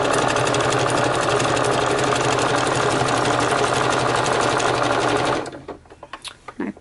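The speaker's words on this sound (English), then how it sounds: "these specialty stitches have a tendency to take longer" A sewing machine stitching specialty stitches on fabric belly bands, a steady close mechanical whir for about five seconds that stops abruptly, followed by a few faint clicks and handling taps.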